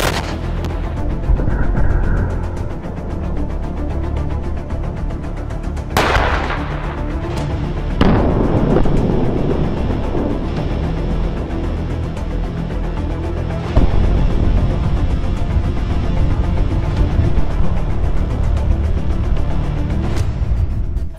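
Tank cannon fire aimed at a T-72B tank: heavy booming shots ring out at intervals, with sharp blasts followed by rumbling echoes over a steady outdoor background.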